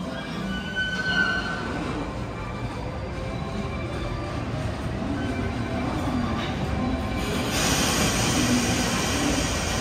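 A freight train rolling slowly after an emergency stop partway along a station platform, with a steady low rumble and rail noise, continuous and fairly loud throughout, with faint metallic squeals.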